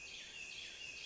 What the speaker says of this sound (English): Northern cardinal, one of my personal favorites.